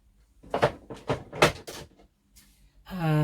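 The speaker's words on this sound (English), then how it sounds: "So let me just put these in my drawer" A drawer in a craft room slides and bumps shut, a short wooden scrape and knock heard close by among a few soft handling sounds.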